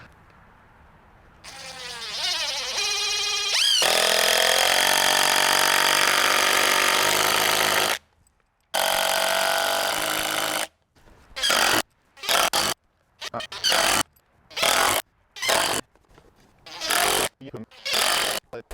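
A power driver sinks Simpson SDWC structural screws through four nailed-together floor joist plies for a DIY cabin floor, starting with one long, loud, whining run and followed by a series of short, sharp bursts with gaps between them.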